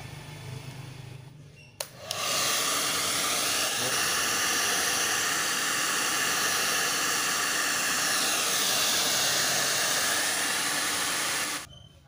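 A hair dryer blows steadily on a screen-printing screen, switching on sharply, holding a loud, even hiss for nearly ten seconds, then cutting off abruptly.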